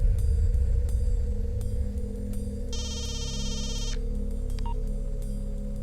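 A telephone rings after a number is dialled, a single bright electronic ring burst lasting about a second over a steady low hum and background drone, with faint ticking clicks earlier.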